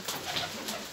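Pigeons coo softly on a rooftop loft, amid steady broadband background noise with no clear voices.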